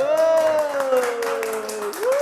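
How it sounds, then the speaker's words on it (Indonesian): A studio audience at a health talk show applauds a prize winner, steady close clapping held under a sustained, drawn-out voice that carries over the top throughout. "saya minta studio boleh tepuk tangan ya"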